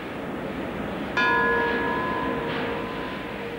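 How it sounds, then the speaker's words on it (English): A single bell is struck once at the opening of an Arctic research center, its clear ringing tone sustaining and slowly decaying, with a faint second tap partway through, against quiet background noise. "This bell announced the opening of the Wärtsilä Arctic Research Center in the spring of 1983."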